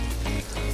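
Water being poured into a cooking mixture of salt and vegetable oil for a pistachio kunafa-filled mochi, a steady close pouring rush lasting under a second with no talk.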